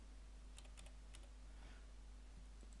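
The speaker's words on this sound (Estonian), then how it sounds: "Trükkime sisse oma logiini." Several faint, scattered keystrokes on a computer keyboard as a login is typed in, heard over a steady low electrical hum with no talking.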